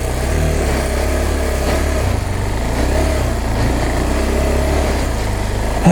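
A KTM 390 Adventure motorcycle rides off road, its single-cylinder engine holding a loud, steady drone close to the rider with no break.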